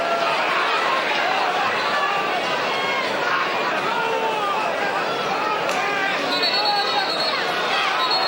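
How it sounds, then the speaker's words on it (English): Muckalee supporters at a hurling match, a county senior semi-final, make a steady roar of crowd noise and shouting that stays loud and even throughout, with a commentator's voice woven through the din. "And the crowd from Muckalee don't like that."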